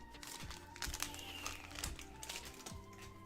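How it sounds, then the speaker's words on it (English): Scissors snipping and foil crinkling as Digimon BT12 card packs are cut open, several crisp cuts and rustles close by at a low level. "I'm gonna open with scissors"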